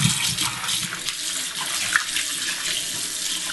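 Cold tap water runs steadily from a faucet into a sink while beef ribs are rinsed and set to soak for Korean braised short ribs, a continuous close splashing hiss with no voices.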